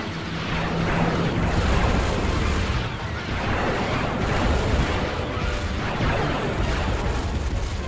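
Battle gunfire and heavy booming blasts fill a fight in the PC game Star Wars Empire at War. The dense, rumbling barrage is continuous, with repeated surges and no voices over it.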